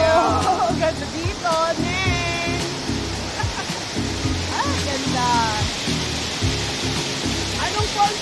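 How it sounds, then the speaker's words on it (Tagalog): Rushing water from a waterfall at Lake Lumot, a steady broadband roar running throughout, with people chatting over it nearby. "Ang lakas din ng daloy ng tubig."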